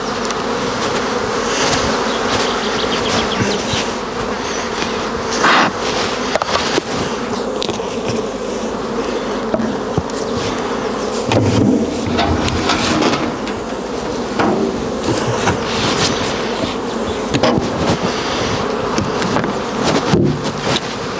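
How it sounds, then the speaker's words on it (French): Honey bees buzz steadily and loudly around a beehive in spring, a dense continuous drone with occasional knocks and handling noises close by. "Celle-là, il n'y a pas assez d'abeilles dedans,"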